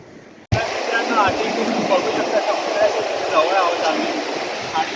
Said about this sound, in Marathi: आता इथे पाऊस सुरू झालाय